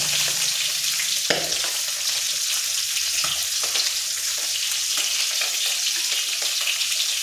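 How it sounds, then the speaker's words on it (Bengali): Ground spices including Kashmiri chilli powder with a little water being mixed in a pan for a Bengali rohu fish curry, a loud continuous frying hiss with occasional spoon scrapes and clinks. "এখানে সামান্য জল দিয়ে দিচ্ছি। এরপর এই মশলাগুলো ভালো করে মিশিয়ে নিচ্ছি।"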